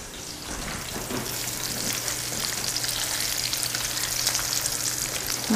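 Cutlets fry in about a quarter inch of olive oil in a pan, a steady, dense sizzle and crackle holding at an even level throughout, close and continuous with no talking.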